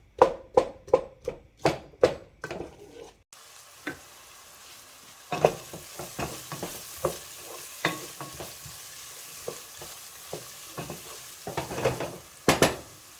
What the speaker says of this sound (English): As you can see, I have not been sauteing for more than 5 minutes and the edges are already nice and crispy brown.